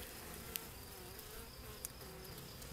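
Soft, steady buzzing of honeybees hums continuously at close range, quiet and unbroken, with a couple of tiny clicks.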